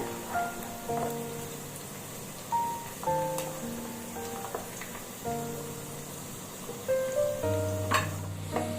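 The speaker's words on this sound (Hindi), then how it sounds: "बीच बीच में इसमें चम्मच चलाते रहेंगे।" Onions fry in a pan over medium heat for a Ghazipur chicken masala, a steady close sizzle broken by occasional spoon stirs, with a faint tonal sound underneath.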